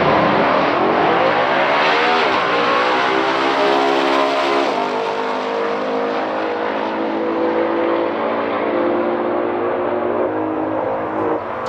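A 1971 Hemi Cuda and a 1963 Plymouth Savoy Max Wedge drag racing: loud V8 engines roar and climb through hard gear changes, then hold a long sustained high-revving howl, alone with no talk.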